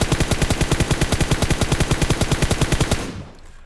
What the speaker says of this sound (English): Let's go ahead and fire headshots.